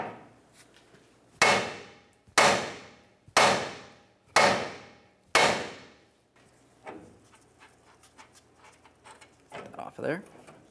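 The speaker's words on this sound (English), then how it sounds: "we'll be hitting right up along the knuckle here, being extremely careful not to damage the brake rotor" Five loud, evenly spaced hammer blows ring out against the steel steering knuckle of a 1994-2002 Dodge Ram 2500 while the drag link joint is knocked free, followed by quieter clanks and handling noise.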